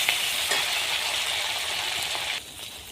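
Shrimp frying in oil in a pan, a steady close broadband sizzle that drops slightly toward the end, with no talking.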